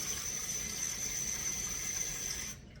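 Cold tap water pours steadily into a container at a kitchen sink, a constant hiss of running water that cuts off abruptly near the end.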